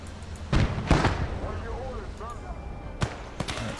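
Gunfire and explosive bangs crackle through a WWII battle game, several sharp bursts spaced out under a man giving spoken orders.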